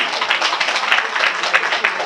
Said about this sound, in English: let us give Mark a round of applause